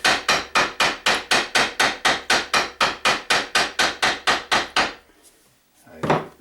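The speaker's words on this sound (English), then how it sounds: "hammering on here" Steady hammering of frets into a Rickenbacker 325 guitar neck on a bench: about eighteen evenly spaced sharp, ringing taps in quick rhythm, close and loud, then a pause and one last strike.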